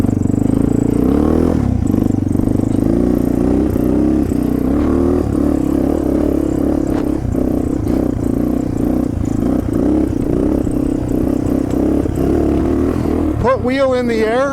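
A Honda XR650L engine revs hard and loud as the rider tries a wheelie over rough, snowy spring terrain. The throttle surges and drops throughout, with a person talking over the engine.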